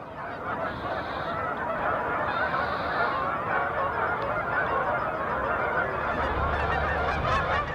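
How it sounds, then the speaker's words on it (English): A large flock of Canada geese returning after sunset, many birds honking continuously in an overlapping chorus, loud and close, with no voices present. "Huge flocks of geese continue to return well past sunset"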